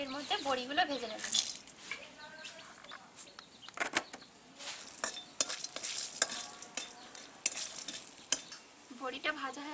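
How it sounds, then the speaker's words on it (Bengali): Lentil dumplings (bori) fry in hot mustard oil in a kadai, giving a crackling sizzle broken by stirring scrapes and clinks, while a voice talks briefly at the start and end. "আমি এর মধ্যে বড়িগুলো ভেজে নেব।"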